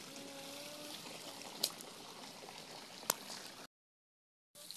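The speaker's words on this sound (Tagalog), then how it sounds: "So, mga agi may aning gamay nga sapa." A small stream trickles and flows steadily nearby, moderately quiet, with a couple of sharp clicks and a brief gap of silence near the end.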